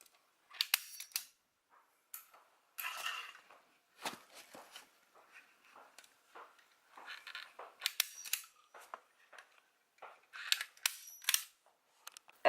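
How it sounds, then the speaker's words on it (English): A hand staple gun fastens insulation to a yurt wall, giving sharp, close clicks and snaps scattered irregularly between quiet pauses. "the in-between parts we secure with the staple"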